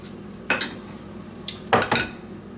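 A metal spoon scrapes the seeds and stringy goo out of a halved pumpkin, giving a few separate close knocks and scrapes against the shell between quiet pauses.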